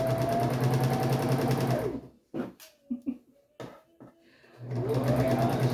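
A sewing machine basting a half-inch seam on dress lining runs in a steady whirring stitch, stops for a few quiet seconds with small handling clicks, then starts up again close by.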